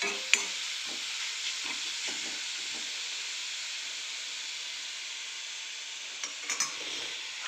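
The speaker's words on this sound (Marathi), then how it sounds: "झालेली भाजी आपली दोन मिनटं वाफवण्यासाठी आपण तिला ठेवून घेऊया" Vegetable filling for radish paratha sizzles and hisses steadily in a pan as it steams, a soft continuous fry with a few faint clinks and stirring sounds, no voices.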